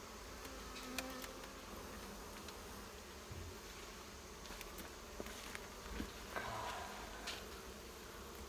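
Honey bees buzz in a continuous low drone around an open beehive during an inspection, with faint ticks and knocks from handling the frames and no talk.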